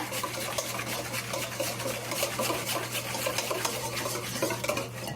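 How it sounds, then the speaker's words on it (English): Whisk beating dough in a bowl, a fast, continuous rhythmic scraping and tapping held at a steady close level throughout, with no talk. "we'll take our whisk and we'll whisk it some more"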